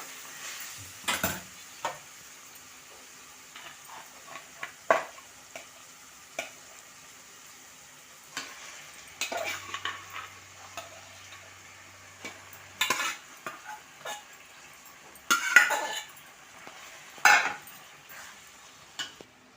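Mutton frying in a home kitchen pan with tamarind leaves, a faint sizzle under intermittent spoon scrapes and clinks against the pot, quiet and close with long gaps between stirs.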